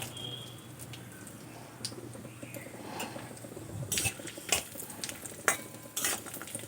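Cashews, raisins and almonds fry in ghee in a pan, a faint soft sizzle punctuated by sharp spatula clicks and scrapes that grow busier toward the end.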